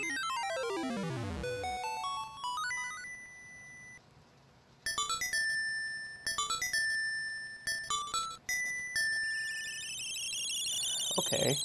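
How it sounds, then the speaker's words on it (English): A musical chime plays as Link obtains the Sea Lily's Bell in Link's Awakening DX, a bright electronic arpeggio sweeping upward, followed by sustained bell-like tones and a sparkling cascading flourish near the end. "You got the sea lily's bell."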